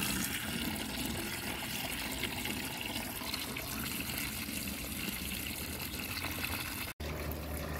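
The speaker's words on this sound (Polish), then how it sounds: "dolejemy kucykom wody. I może tym też dolejemy wody" Water poured for ponies in a stable, a steady splashing and trickling fill running continuously at close range with a brief cut near the end, no talking.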